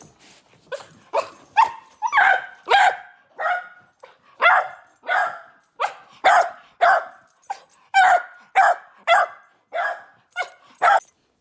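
A dog shut in a kennel cries and barks over and over, with about twenty loud, close, whining yelps and barks spaced by short pauses and no talk.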